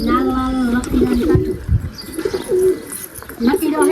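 Pigeons coo in soft, repeated throaty phrases close by at a nest with two chicks, with a few faint chirps and rustles in the background.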